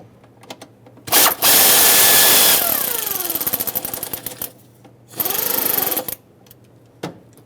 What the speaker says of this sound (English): let's snug them up